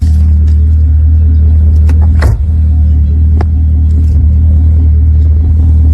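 A Corvette's engine gives off a loud, close, steady low rumble that holds evenly throughout, with a few faint clicks and a brief bump partway through.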